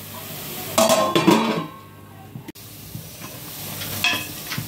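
Okra frying and being stirred in a pan for a tamarind curry, with a burst of sizzling and metallic scraping and clinks of a utensil against the pan early on, then a quieter steady sizzle.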